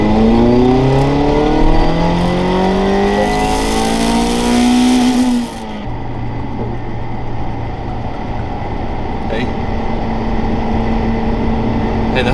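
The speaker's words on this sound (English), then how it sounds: "let's go ahead and see what the second gear pull looks like" Tuned Mazda ND Miata pulling hard through second gear, engine note rising steadily to a loud peak near the middle, then a shift and a lower, steadier drone as the car carries on; no talking.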